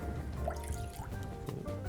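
Water poured into a pan of lemon juice while cooking a tarte au citron, a steady trickling and dripping flow that runs throughout at close range with no talk over it.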